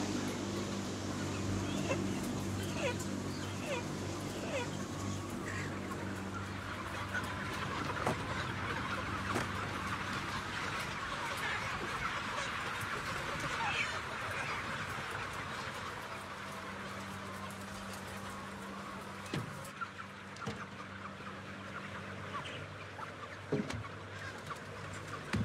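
Broiler chickens clucking in a poultry house, a continuous crowded murmur of soft clucks with a steady low mechanical hum underneath, fairly close and moderately loud throughout.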